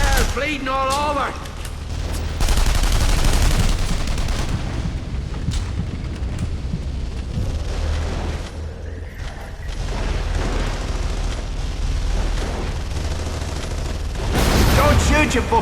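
Sustained gunfire and booming blasts from The Saboteur, a video game, rolling through a chaotic firefight with dense bursts and explosions throughout, while shouted voices break in over the din.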